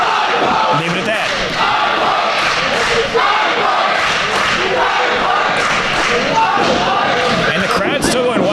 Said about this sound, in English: And the crowd's still going wild for these eye pokes